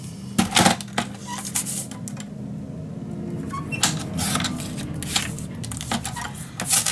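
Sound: cutting paper to size for a mini album

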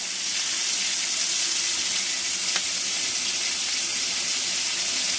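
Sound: tomato frying with spices in a pan

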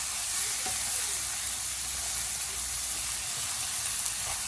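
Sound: frying red amaranth greens with shrimp

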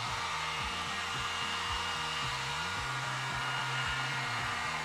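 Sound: heat gun or hair dryer heating iMac display edges

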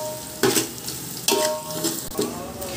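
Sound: onions sautéed on high flame for biryani

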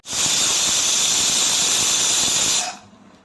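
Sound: pressure cooker whistle

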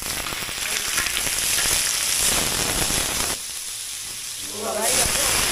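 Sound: pork bones frying in oil in a wok

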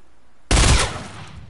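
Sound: gunfire in the video game Fortnite

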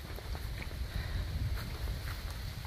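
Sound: wind

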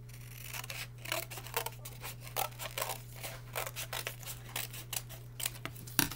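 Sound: scissors cutting paper for caterpillar craft

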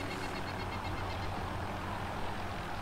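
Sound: helicopter in a video game

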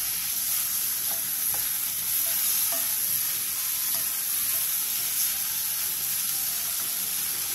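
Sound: stir-frying onions in a pot

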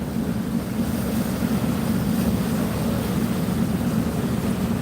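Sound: passenger launch Al Araf 7 on river

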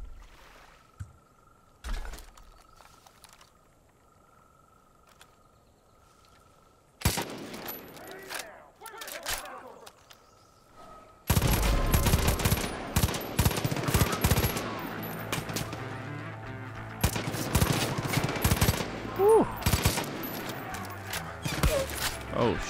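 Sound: gunfire shooting at a shrine in video game Far Cry 5

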